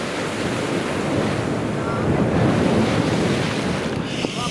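Sea waves crashing and splashing against black rocks on a windy shore, a loud continuous surging roar with wind buffeting the microphone, swelling midway, close and unbroken.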